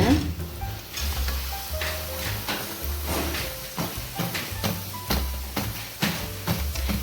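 Badusha sweets deep-fry in hot oil with a loud, steady sizzle and bubbling, broken by intermittent clinks and scraping of a utensil against the pan, close and with no voices.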